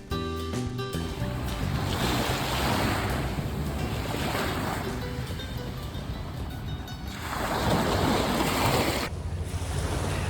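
Waves rolling onto a Mallorca beach after sunset, a steady loud wash of surf rising and falling in broad swells, with gusty wind buffeting the microphone throughout.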